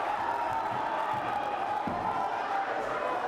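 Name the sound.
boxing crowd cheering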